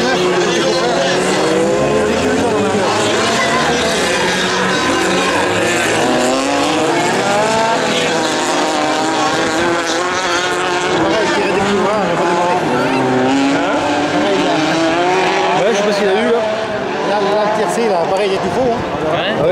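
Autocross race cars in a 2014 final at Fenioux roar past continuously, engines revving and tires scrabbling on the track, loud and steady throughout, with French-speaking spectators talking nearby.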